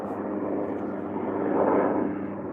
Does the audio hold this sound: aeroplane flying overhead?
yes